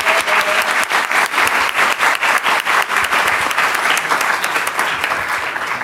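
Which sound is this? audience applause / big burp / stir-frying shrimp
audience applause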